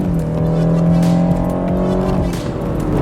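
A BMW in Sport Plus mode accelerating hard, its engine note climbing steadily in pitch with strong, sustained tonal harmonics, loud and close, a brief easing partway before pulling again.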